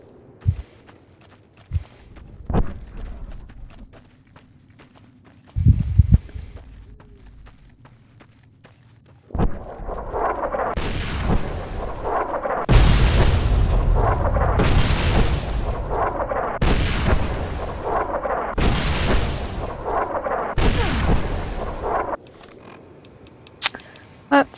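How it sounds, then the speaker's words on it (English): Video game missiles and bombs go off as a series of loud, broad booming blasts, several heavy explosions in close succession after scattered thuds and clicks, each with a rumbling tail. "I wish I could see their bombs. Not until the very last minute I could see the missile."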